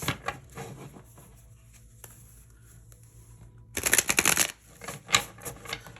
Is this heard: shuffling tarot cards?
yes